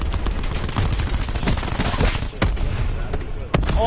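In a multiplayer shooter video game, a war machine weapon fires in dense, loud bursts of gunfire with sharp booming impacts, and players talk over the battle noise.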